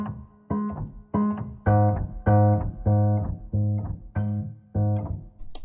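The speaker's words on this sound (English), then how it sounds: "It's the sound of the key actually releasing" Sampled piano chords from the Fracture Sounds Glacier Keys instrument, with key-release noises enabled, play in a steady series of about nine struck chords, each cut short with a soft release as the key lifts.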